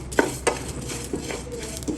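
Fenugreek, coriander and mustard seeds fry in a pan, a low sizzle under several clinking scrapes of a spoon stirring against the metal, close and alone.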